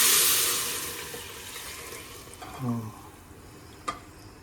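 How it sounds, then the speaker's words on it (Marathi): Paya soup ingredients and strained broth are stirred together in a pot, giving a soft, continuous sloshing and scraping with a faint clink near the end. "सब सूप के लिए ये सब अभी हम मिक्स करेंगे।"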